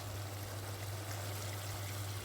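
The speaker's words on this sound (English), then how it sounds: "some water, which is 1 litre" Water, one litre, pours steadily into a pot of chicken pilau, a continuous close splashing stream with a low steady hum underneath and no talking.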